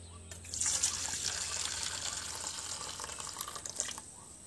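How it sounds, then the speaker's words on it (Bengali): Boiled water is poured into a container for preserving raw mango, a soft, steady splashing stream lasting a few seconds at close range, then stopping. "হ্যাঁ এর মধ্যে আমি জলটা ঢেলে দেবো"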